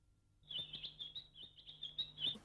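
A cartoon bird chirps in a quick, bright run of tweets that lasts about two seconds, heard clearly and alone.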